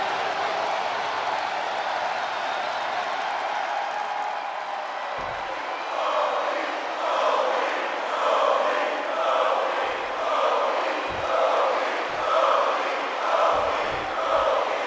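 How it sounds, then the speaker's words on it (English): Excited WWE wrestling arena crowd cheering as Kofi Kingston's match begins, a broad roar that swells into rhythmic waves of chanting and whoops, with a few sharp thumps cutting through near the end. "This crowd is excited for this one as it's go time for Kofi Kingston."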